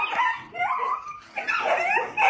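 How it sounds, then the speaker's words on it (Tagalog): A dog barks and yips excitedly in quick bursts at close range, loud and agitated with whiny, high-pitched tones, no voices over it. "Magulo po yung aso."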